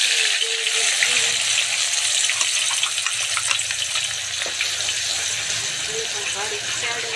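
Onion gravy frying in hot oil for pav bhaji, a steady close sizzle and crackle running throughout, with someone talking over it.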